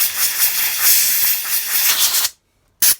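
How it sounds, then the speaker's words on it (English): A compressed-air line blasts out the float bowl of a Honda lawn mower carburetor: a loud, harsh hiss runs for about two seconds, cuts to silence, then returns as a brief final burst. "Let's blow the bowl out."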